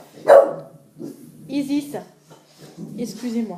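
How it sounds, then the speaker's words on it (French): A pet dog barking at noises inside a home, giving a few sharp barks mixed in with someone speaking French nearby. "Elle passe son temps à aboyer."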